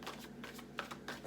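Tarot cards being shuffled by hand in quiet, soft bursts of riffling and sliding that come in several short strokes, faint and close with no talk over them.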